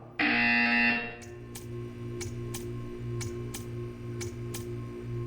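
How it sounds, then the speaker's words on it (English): A loud electronic buzzer sounds in Portal 2, one harsh tone of about a second, followed by a row of evenly spaced soft ticks over a low hum. "You will hear a buzzer."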